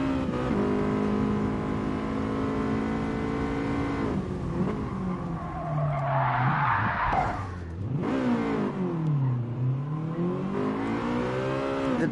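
A Honda race car in GT Sport is thrown through bends, its engine revving steadily with rising and falling pitch while tyres skid and squeal loudly mid-corner, the engine note dipping and climbing again between turns.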